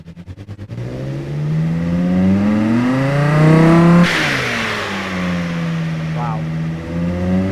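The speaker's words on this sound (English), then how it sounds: "let's fire up this engine." Car engine in the BeamNG driving game starting with a few quick cranking pulses, then revving up loudly in a rising whine, dropping back and settling into a steady idle.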